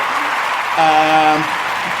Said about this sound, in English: Let's give him a little cheer.